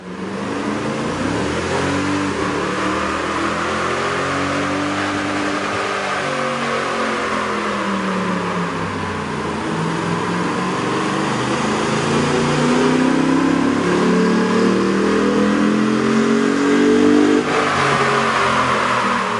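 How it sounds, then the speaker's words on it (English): A car engine fitted with a K&N 77-9035KP cold air intake revs up and down steadily on a dyno, a droning intake roar rising and falling in pitch over a long stretch, with no voices. "we ran the vehicle on the dyno to test the sound comparison versus the stock intake"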